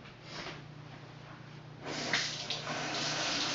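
Water running from a kitchen tap into a sink, a low rushing flow that swells louder and fuller partway through and carries on steadily to the end.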